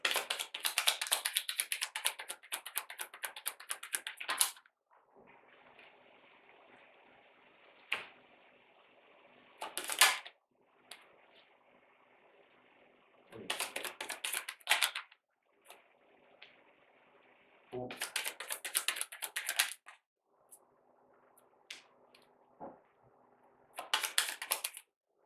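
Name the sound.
shuffling tarot cards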